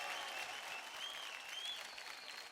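Steady audience applause fills a dance competition studio, dense and continuous with a few faint whistles on top, no voice over it.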